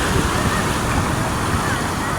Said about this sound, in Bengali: সাগরের উত্তাল ঢেউ উত্তাল সব